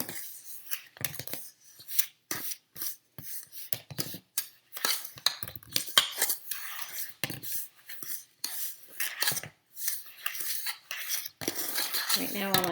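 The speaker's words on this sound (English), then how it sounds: "by the time I stir the butter and the sugar and the 2 eggs, it'll be kind of a creamy mixture" Butter, sugar and two eggs stirred in a bowl for cinnamon bread, a long run of close, rapid scraping and clinking strokes from a utensil against the bowl, irregular and busy with brief pauses throughout.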